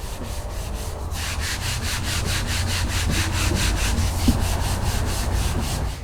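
Block sanding with 180 grit on the fiberglass front-end bodywork of a C4 Corvette: steady, rhythmic rasping strokes, close and fairly loud, repeating evenly back and forth with no voices.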